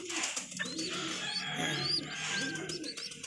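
Pigeons coo softly with light chirps over a steady background murmur, several birds calling close by at feeding time.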